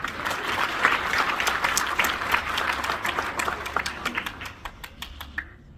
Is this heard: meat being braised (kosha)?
no